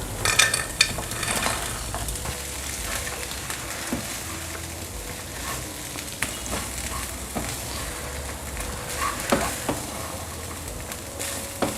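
Soya balls are stirred into a sizzling Manchurian sauce with tomato ketchup in a hot pan, the spoon scraping and clinking against the metal over a steady frying hiss, with no talking.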